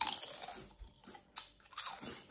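Someone munches premium Spanish potato chips close to the mic, giving a few irregular brittle crunches and chewing sounds with quiet gaps in between.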